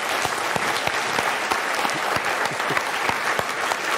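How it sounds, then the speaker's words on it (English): Audience applause in a theater during an evening talk by a former teacher, a dense, steady wash of many hands clapping that stays loud and close throughout with no voices on top. "could we give a round of applause to my mother?"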